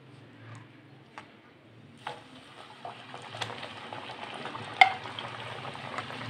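Namak paray dough pieces frying in hot oil: a continuous close crackling sizzle with scattered sharp pops and bubbling, no talk.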